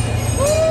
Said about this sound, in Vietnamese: Train has finally arrived.